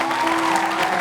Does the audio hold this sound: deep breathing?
no